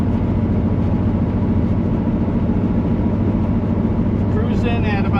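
Low, steady engine drone from a 1977 Chevrolet Corvette cruising at about 1,800 RPM and 30 mph, a continuous loud rumble with broadband road noise, and someone talking over it.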